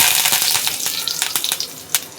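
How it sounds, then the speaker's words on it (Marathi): Mustard seeds, cumin and curry leaves sizzle in oil over a low flame, making a loud, close hiss broken by sharp popping crackles and a few louder spits, with no voices. "राई चांगली तडतडलेली आहे."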